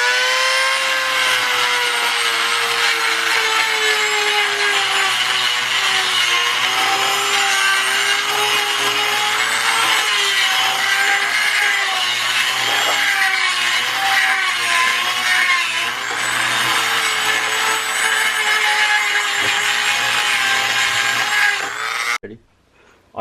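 Power grinder working a staked U-joint bearing cap out of the yoke on a Toyota RAV4, a loud, continuous whining grind with wavering pitch that runs close and steady for over twenty seconds before cutting off.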